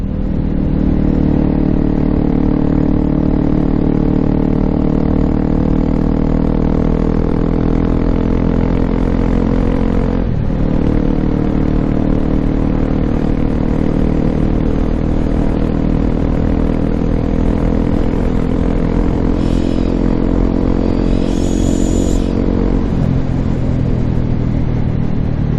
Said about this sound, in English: love that sound. The old thumper.